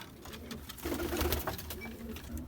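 A pigeon with foot fungus, held close, lets out a faint low coo amid handling noise and background hiss.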